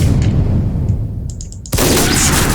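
A single sniper rifle shot in a video game lands as a sudden loud, sharp crack near the end, then rings on over continuous busy game background noise.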